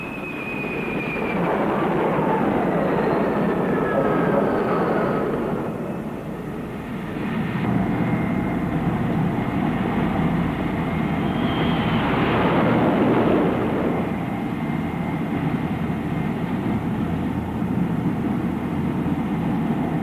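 A steady, loud roar of military aircraft engines passing overhead, swelling and easing slightly over twenty seconds, with a faint descending whine early on.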